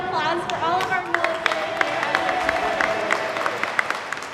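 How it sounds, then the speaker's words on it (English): Scattered clapping from a crowd, light and somewhat distant, mixed with talking voices and a brief whistle. "A big round of applause for all of our military."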